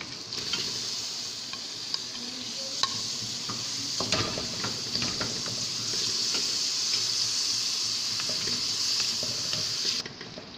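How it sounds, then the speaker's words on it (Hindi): Minced meat sizzles and fries steadily in a hot pan for aloo qeema, with occasional sharp stirring clinks and scrapes of a utensil against the pan and no talking. "अब इसमें हम कीमा डाल देंगे।"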